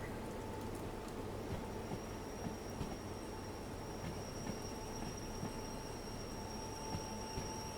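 A train in the video game Derail Valley rumbles steadily while braking, with rolling wheel noise and faint rail clicks, a high thin whine running throughout, no voices.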